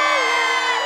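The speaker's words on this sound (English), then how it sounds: "Never come back if the crowd is this loud." A loud cartoon crowd cheers and whoops all at once, a dense, sustained roar of shouting voices with high, bright tones throughout.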